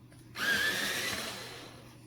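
A Polychromos colored pencil being sharpened makes a steady grinding whir that starts abruptly, holds for well over a second, then fades slightly, close and alone.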